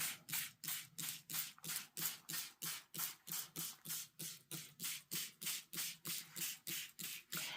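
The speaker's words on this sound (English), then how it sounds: "we're going to do the glycerin spray" A spray bottle squirts glycerin onto faux leather over and over in a fast, steady rhythm, about two dozen quick hissing pumps, close and fairly quiet.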